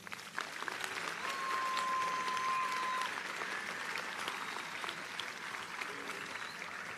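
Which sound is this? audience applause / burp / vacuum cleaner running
audience applause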